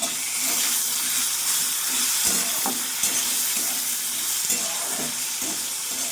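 Vegetable stalks and a whole tomato frying in oil with nigella seeds in a pan, a loud continuous hissing sizzle with occasional light stirring knocks.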